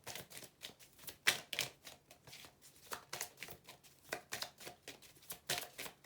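Tarot cards riffled and shuffled in quick, repeated bursts of crisp flicking, close by, with no talking.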